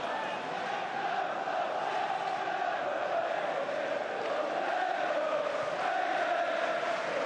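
Football stadium crowd of about 44,000 at Liverpool versus Manchester United, a steady roaring wash of massed voices and chanting, loud and unbroken throughout.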